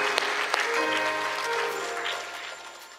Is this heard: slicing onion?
no